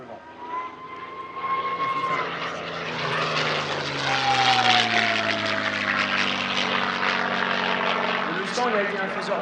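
A P-51 Mustang propeller fighter roars past at an airshow, its engine note swelling and then shifting lower as it goes by, loud and sustained, with someone talking over it throughout.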